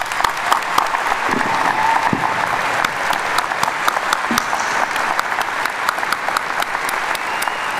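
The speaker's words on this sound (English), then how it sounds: "Another round of applause for our students" Audience applause for graduating students at a university commencement in Kansas City, dense continuous clapping from a large crowd with sharper individual claps popping out and a few faint cheers mixed in.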